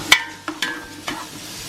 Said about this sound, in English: So let me just give these a quick stir.